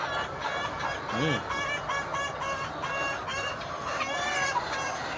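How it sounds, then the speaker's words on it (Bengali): A crowd of farm chickens clucking and chattering busily during feeding, a dense continuous flock noise at moderate volume with overlapping calls throughout. "এই দেখেন মুরগিকে খাদ্য দিচ্ছে"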